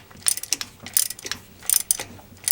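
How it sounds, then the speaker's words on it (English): Ratchet clicking in repeated bursts while tightening a rocker arm nut on a small-block Chevy V8 with hydraulic lifters, close and crisp, several quick rounds of ratcheting with no talking. "Tighten it down as you pull the rocker up and down."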